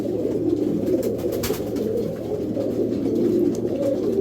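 A pair of Belgian racing pigeons coo with low, steady, continuous murmuring close by, under a constant background hum with a few faint clicks.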